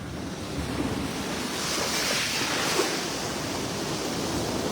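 Sea waves surging and washing ashore in a steady, broad roar mixed with wind buffeting the microphone, swelling slightly midway through, with no voices present.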